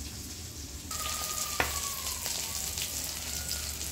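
Tengra fish frying in a pan give a steady, fine sizzle throughout, with a thin tonal whine drifting across the middle and one sharp tap partway through.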